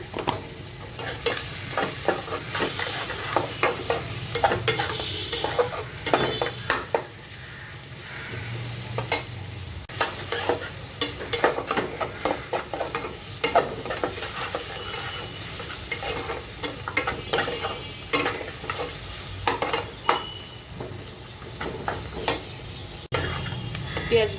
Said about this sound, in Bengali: ভেজে নিব পেঁয়াজগুলো দিয়ে দিচ্ছি